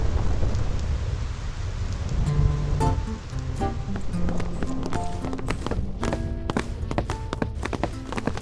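A thunderstorm on the Thunder Plains in the game Final Fantasy X: steady rain hiss under rolling thunder, with sharp crackling lightning strikes and bright chimes scattered through the second half.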